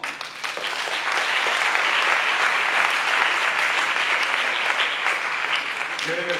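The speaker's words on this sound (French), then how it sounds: "je crois qu'il mérite encore des applaudissements" A hall audience applauds at the final of a debating competition in Kinshasa, a dense, steady wash of many hands clapping at even loudness for about six seconds.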